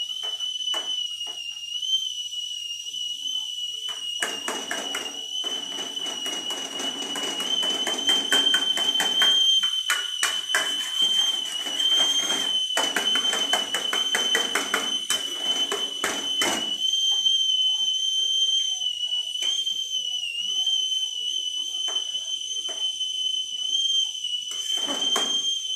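An idli cooker on a kitchen stove lets out a long, steady high-pitched whistle that carries on for many seconds, with a second tone above it and clattering kitchen noise mixed in.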